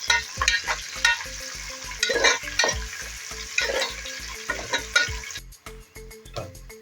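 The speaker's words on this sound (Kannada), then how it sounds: "ಈರುಳ್ಳಿ ಹಾಕ್ಬಿಟ್ಟು ಒಂದು 5 ನಿಮಿಷ ಚೆನ್ನಾಗಿ ರೋಸ್ಟ್ ಮಾಡ್ಕೋಬೇಕು." Onions roasting in a pan for egg dum biryani, a continuous hiss of frying under a rapid series of stirring knocks and scrapes, close and loud, easing slightly near the end, with no talking.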